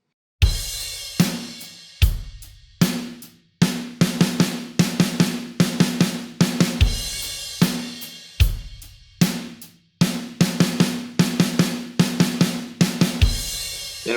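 A drummer plays a fill rhythm entirely on the snare drum, crisp loud strokes in repeated quick bursts with short gaps, backed by periodic cymbal and bass drum accents on a kit.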